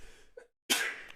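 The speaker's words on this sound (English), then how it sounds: "I'm gonna sneeze." A single sharp sneeze bursts out close and loud after a brief intake of breath and a moment of silence, trailing off quickly.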